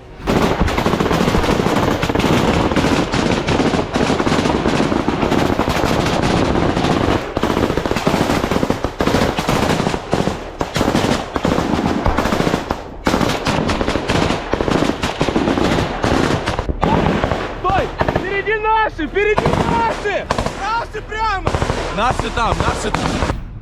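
Machine-gun fire during a Ukrainian Third Assault Brigade combat operation against a Russian attack, long dense bursts of loud rapid shots nearly continuous, with shouting voices breaking through near the end.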